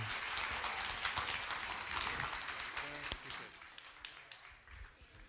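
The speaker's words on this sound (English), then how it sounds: "Round of applause for everybody." An audience at a New Orleans mayoral candidate discussion applauds, a dense patter of claps that thins and fades toward the end with a few isolated claps.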